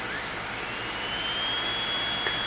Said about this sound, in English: I'm going to hold the motor and I'm going to power up the ESC.